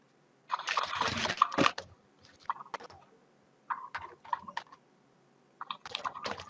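Typing on a computer keyboard during a live Java programming lecture, close and fairly clear: quick bursts of clattering keystrokes separated by short pauses, with no voices.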